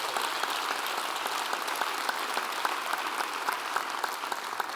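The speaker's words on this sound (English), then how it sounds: "that deserves a round of applause" An audience at the CCSD State of the Schools 2025 district event breaks into loud, sustained applause, dense clapping that fills the room evenly without pause.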